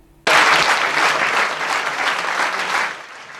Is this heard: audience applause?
yes